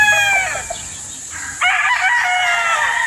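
A golden boy gamefowl rooster crows loudly and nearby on a farm in San Pablo, with a strained call followed by a second, fuller crow, over faint background clucking.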